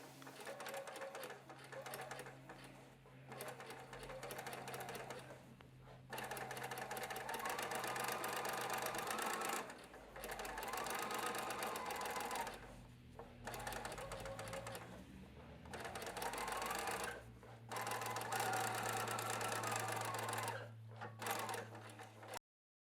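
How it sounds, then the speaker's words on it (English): A sewing machine runs at a slow, steady speed, stitching around the curved corners of a welt pocket flap, with a continuous whirring hum broken by several short pauses as the fabric is repositioned. "At the machine, to stitch around the curved corners, hold the fabric firmly and sew slowly."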